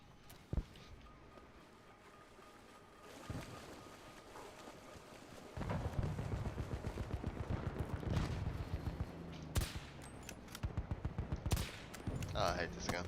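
A video game shooter fires an M15 rifle in short bursts of rapid shots, then longer rattling volleys that grow louder and denser toward the end, with some talk.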